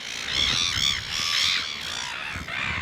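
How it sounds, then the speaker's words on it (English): Geese or similar large birds honk and call repeatedly in a park in Rotorua, New Zealand, a run of loud, close, harsh cries in overlapping bursts against steady outdoor background noise. "Shut up, birds."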